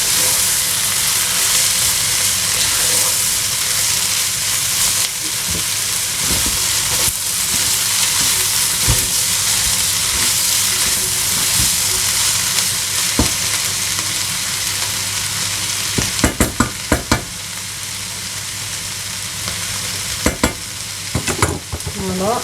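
Chakchouka vegetables sizzle loudly in a pan while being stirred, a dense continuous frying hiss broken by sharp utensil scrapes and clicks that cluster toward the end, heard up close with no speech.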